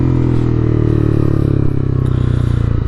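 A 2021 Honda CB300R motorcycle with a Yoshimura exhaust gives a loud, close, steady engine drone with a rough pulsing rumble that dips slightly partway through.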